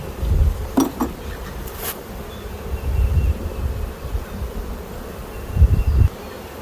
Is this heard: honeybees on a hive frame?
yes